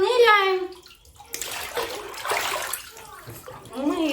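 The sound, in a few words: baby dipped under water in bathtub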